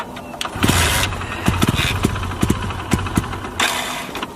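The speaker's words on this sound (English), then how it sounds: "The bike is now starting." A motorcycle engine, run on water instead of petrol, cranks and sputters into life, firing in uneven, loud bursts close by with a rough, stumbling idle between them.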